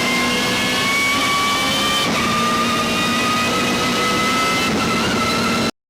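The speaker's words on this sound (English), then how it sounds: "the BMW M3 GTR hit the track in anger" A BMW M3 GTR V8 race car from the 2001 ALMS season roars on track, a loud sustained engine note with clear harmonic tones holding steady, briefly dipping around gear changes before cutting off abruptly at the end.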